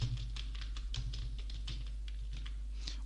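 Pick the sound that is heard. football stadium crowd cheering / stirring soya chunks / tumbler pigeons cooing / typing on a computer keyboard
typing on a computer keyboard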